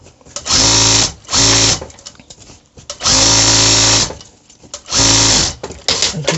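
A sewing machine stitches elastic onto a trouser in four loud, steady whirring bursts, each lasting about a second or more, separated by brief pauses with faint handling noise.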